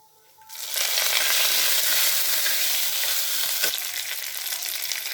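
Curry leaves and chana dal hitting hot oil in a pan for spicy kozhukattai, a sudden loud sizzle that swells after a quiet start and holds as a steady hiss.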